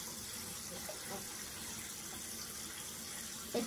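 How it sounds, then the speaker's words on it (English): Water runs steadily from a faucet with an LED temperature indicator and drains away in a quiet, even trickle, with a brief clink near the end. "Let's drain a tiny bit of water."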